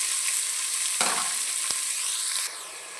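Sliced onions frying in oil in a pan for a country chicken curry give a steady bright sizzle, broken by a couple of clattering stirs of the spatula before the hiss drops slightly quieter.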